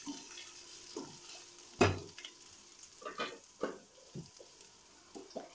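Thinly sliced onions fry in a pan for tomato rasam, with soft sizzling broken by scattered clicks and scrapes as they are stirred, and one sharper clatter near the start.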